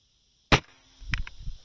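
A single sharp crack of a pellet gun fired at a squirrel outdoors, a short loud snap out of silence followed by faint rustling and small knocks.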